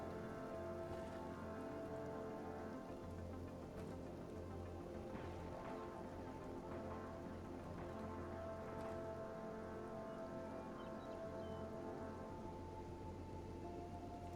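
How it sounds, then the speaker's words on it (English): Acid rain falls steadily in Kenshi, a dense, continuous hiss of drops on surfaces with soft scattered patters and a low ambient hum beneath, quiet and unbroken, with no voices. "this acid rain is going to hurt."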